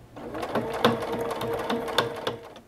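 A sewing machine stitches binding onto a Christmas stocking with a quick, steady run of rhythmic needle clatter, close and moderately loud, with no talking.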